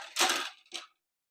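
Archery arrows are drawn out of a trad-style hip quiver in two quick, close rustling scrapes, the first longer and brighter, the second short, followed by silence.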